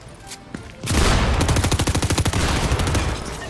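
Shotgun fire and other gunfire in Fortnite Chapter 4 Season 1: a loud burst erupts after a quiet start, then a fast rhythmic rattle of repeated shots continues close and dominant for several seconds.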